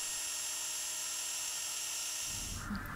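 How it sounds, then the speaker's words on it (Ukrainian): A high-pitched drill whines steadily into 2 mm brass sheet, boring 3 mm holes, then the tone drops and roughens as the bit cuts through near the end. "По кутах свердлимо отвори 3 мм."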